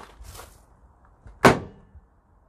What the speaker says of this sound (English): So lockable barn doors when they're in the 90 degree position.